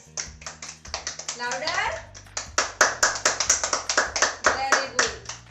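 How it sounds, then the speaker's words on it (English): Children in a classroom clap their hands in quick, rhythmic bursts, loud and close, with a teacher's voice calling out over the clapping. "Clap your hands."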